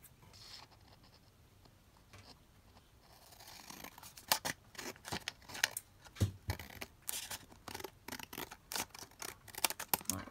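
Paper being trimmed for a ring-bound journal, with a quiet handling start followed by a run of sharp, close snips and cuts in an irregular rhythm and no talking.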